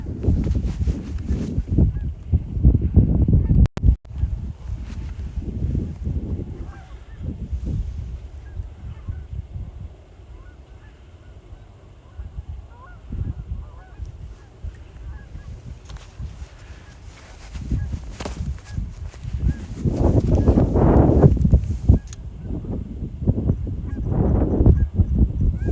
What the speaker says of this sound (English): And then there's a bunch of geese flying around over there.